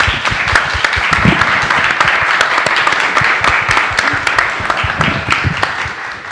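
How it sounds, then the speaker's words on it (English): Audience at a panel talk about film days claps in a sustained, dense round of applause, loud and steady throughout with scattered individual claps standing out, then easing slightly at the end. "Yes, round of applause."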